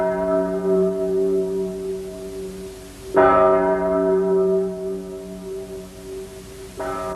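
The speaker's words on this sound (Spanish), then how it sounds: "Catalina mandó instalar el reloj y la campana del castillo, que son de los más antiguos de Inglaterra" An old castle bell at Leeds Castle, among the oldest in England, rings with loud sustained resonant tolls, one strike fading and a second clang near three seconds, then a third starting at the end, with no voices.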